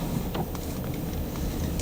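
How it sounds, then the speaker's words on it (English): Strong wind from a coastal blizzard roars steadily against the microphone, a dense rushing noise with gusty bursts, loud and unbroken throughout. "You see it's pretty windy."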